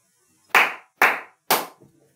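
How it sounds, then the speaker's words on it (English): Three sharp hand claps recorded in a living room, evenly spaced about half a second apart, each with a quick decay and slight room ring, alone and close. "this is what it sounds like recording in the living room."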